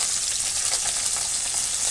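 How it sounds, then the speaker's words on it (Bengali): Snakehead (lata) fish frying in oil in a wok in a village kitchen, a steady close hiss of broad bright sizzle with no pauses, no voices over it. "এখন মাছটা ভাজা হবে। ল্যাঠা মাছ"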